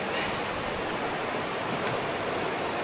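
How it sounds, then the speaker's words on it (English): Hikers crossing a deep mountain creek on the High Sierra Trail, with steady, loud rushing water filling the whole clip like a nearby stream or small cascade. "Gotta do a little creek crossing"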